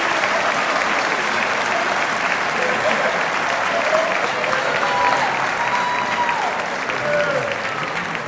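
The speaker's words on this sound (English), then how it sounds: "can give these guys a round of applause." Sustained round of applause from a banquet crowd honoring high school football players, dense and loud steady clapping filling the hall for the full stretch, with faint voices mixed underneath.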